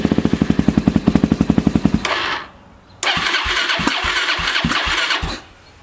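A Suzuki DRZ400 motorcycle engine cranks with a quick, even run of starter pulses for about two seconds. It catches and fires, then runs loudly with sharp throttle blips and brief dips.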